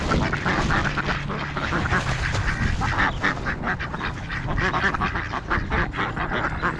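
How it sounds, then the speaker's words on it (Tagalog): Wild ducks quacking continuously while being fed outdoors in a park in New Zealand, a dense chorus of overlapping nasal calls close by over steady outdoor noise. "Nakakatuwang magpakain ng wild duck dito."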